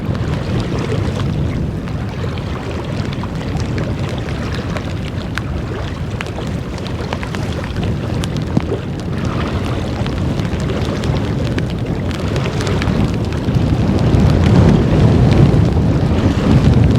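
Wind roars over a lake heard from a bass fishing boat, a loud, continuous low rumble of gusts buffeting the microphone, swelling stronger toward the end with no talking.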